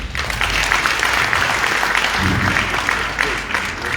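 An audience at a South African Easter prayer festival for Mariammen claps in a dense, sustained round of applause for a speaker, steady throughout with a slight swell near the end.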